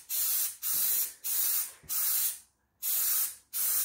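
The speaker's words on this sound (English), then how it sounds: "So we're going to give it a spray in the box," Short bursts of bedliner spray hiss from an aerosol can, six quick blasts with brief pauses between them, close and steady, coating an ATV rack.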